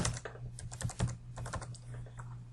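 Rapid, uneven keystrokes on a computer keyboard as a Twitter handle and password are typed in, close and crisp with no voices.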